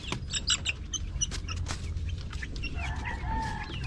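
Rhode Island chickens cluck and a rooster crows amid steady outdoor background noise, several birds calling at moderate distance.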